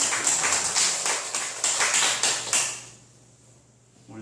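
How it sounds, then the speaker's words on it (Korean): A church congregation claps to welcome a newcomer, a brief run of evenly spaced claps that fades to quiet after a few seconds. "박수로 환영하겠습니다."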